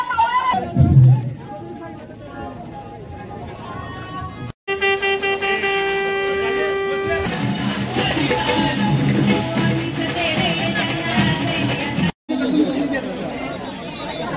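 Thousands of Shivaji devotees throng Raigad fort, a loud, dense crowd babble that runs throughout, with a steady tone and an occasional horn rising above the chatter.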